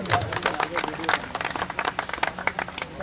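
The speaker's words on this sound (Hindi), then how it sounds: "तालियां बजाइए तो जोरदार।" Loud applause and clapping from a crowd at a BJP party welcome event for Narendra, with cheering voices mixed in throughout.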